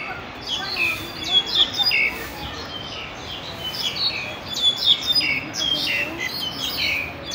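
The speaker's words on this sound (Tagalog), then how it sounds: "oh, it's bird" Small birds chirp and tweet outdoors in quick, repeated bursts, fairly close, over a soft background hiss.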